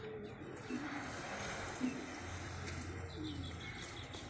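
Pigeons set out in the sun give soft, low coos every second or so, faint and half buried in steady outdoor noise, with a few small chirps nearby.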